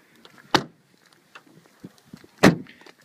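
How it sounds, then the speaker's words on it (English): Two solid thuds as the doors of a Buick LaCrosse CXL are shut outdoors, spaced about two seconds apart, with faint rustles and footsteps between them and no talking. "Get a nice solid sound there from the doors"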